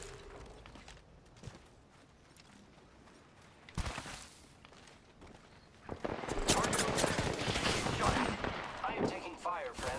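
Weapons fire in Apex Legends, faint scattered shots early, then a louder run of rapid gunfire in the second half, with voices talking quietly underneath.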